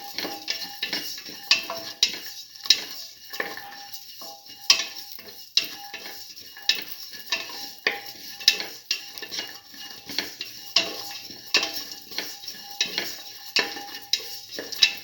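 Black lentil rice is sautéed in a pot, a spoon scraping and clinking against the metal in a steady, repeated rhythm over a continuous soft sizzle.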